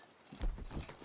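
A horse's hooves clop softly a few times on the ground in the Red Dead Redemption 2 video game, faint and close, with no voices.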